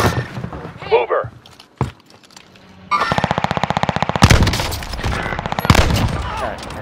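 Video game gunfire: a few scattered shots and short bursts early on, then sustained rapid automatic fire from about three seconds, loud and close, with a voice talking over it.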